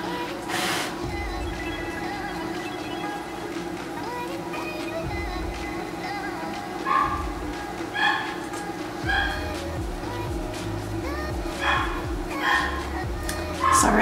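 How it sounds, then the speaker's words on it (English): A dog barks and yips a few times in the background of a home, short bursts that recur through the second half over a steady hum and low talk. "that's my dog in the background barking"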